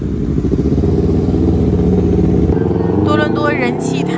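Motorcycles rumble at a busy Toronto plaza, a low steady engine drone close by that fades after a couple of seconds, with voices chattering over the scene.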